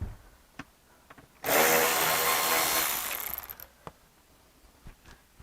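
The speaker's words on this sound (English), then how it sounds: "next we're going to take some Phillips screws out." A power screwdriver whirs for about two seconds, backing Phillips screws out of the dashboard of a 1988–92 Mazda MX-6, with a few light clicks and knocks of handling before and after.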